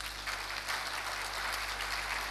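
Audience clapping at the opening ceremony of a yoga event in a hall, a steady, even wash of many hands that stays moderately loud throughout, with no voices over it.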